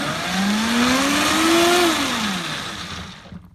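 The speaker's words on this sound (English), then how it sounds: "we're going to go to maximum speed, speed 10, and we're going to pulse the machine on and off" A Vitamix blender pulsed once at maximum speed 10 while mixing wet bread dough ingredients: a loud motor whir rises in pitch, holds briefly, then winds down and fades.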